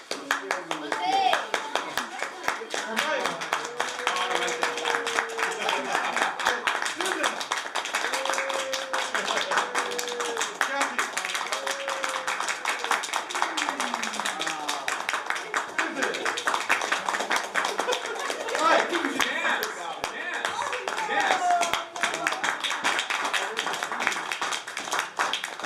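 A small group at a Christmas campout claps for an ugly sweater contest entrant, scattered, close hand claps that mix with cheering voices and chatter, including children, throughout.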